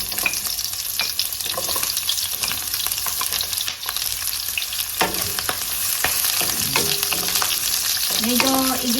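Onion sautés in hot oil in a kawali, a loud continuous sizzle with scraping stirring strokes throughout; a few short metallic utensil scrapes rise near the end.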